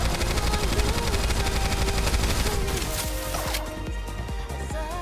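Sustained rapid gunfire in the shooter game NIKKE, loud and continuous automatic fire that eases slightly toward the end.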